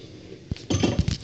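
A utensil scrapes and clinks against a metal pot of melting wax, with a few sharp metallic knocks close by over a steady background hiss.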